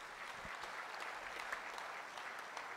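A Sunday service congregation gives a steady round of clapping for God, faint and distant but continuous, with no voices over it.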